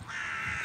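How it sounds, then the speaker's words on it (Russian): A crow caws in an outdoor grove, one short harsh call lasting under a second, moderately close and alone with no talk. "Ворона каркает."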